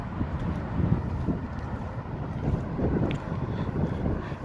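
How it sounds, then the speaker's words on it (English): Steady wind rushes and rumbles against the microphone outdoors, a continuous low buffeting with gusts swelling and easing. "it's windy as hell though"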